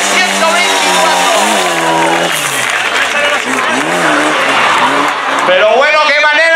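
A Fiat 124 rally car slides sideways on a classic regularity rally stage, the engine revving and wavering loudly under continuous excited commentary, with crowd noise in the background.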